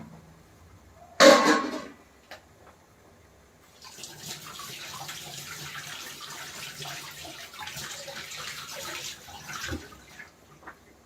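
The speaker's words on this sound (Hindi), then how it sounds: "एक बार मैं हाथ धो लूँ।" Tap water runs steadily into a kitchen sink while hands are washed under it, a soft continuous splashing after a brief louder clatter at the start.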